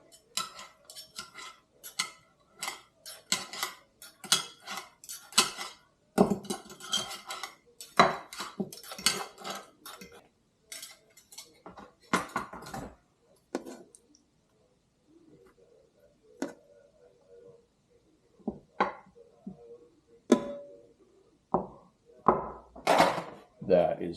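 Cooked carnitas pork is shredded with utensils in a pan, producing sharp, irregular metallic scrapes and clinks in close bursts, with quieter gaps between strokes.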